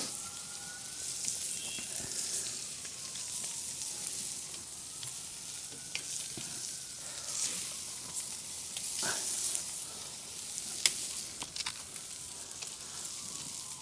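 Salmon sears in a hot pan while grilling surf and turf Santa Maria style, giving a steady, bright sizzle with faint crackles and pops that stays even and moderately quiet throughout.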